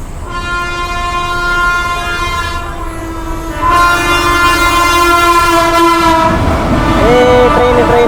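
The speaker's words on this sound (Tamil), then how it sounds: "ட்ரெயின் வேறு வந்துருச்சு." A train horn blares with steady, sustained tones as a train passes a railway crossing nearby, the rumble and clatter of rail cars building louder toward the end.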